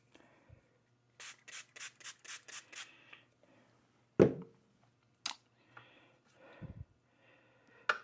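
A Puma straight razor honed on a Karasu Japanese natural whetstone, a quiet close run of six or seven quick, even rubbing strokes, followed by a few scattered scrapes and knocks.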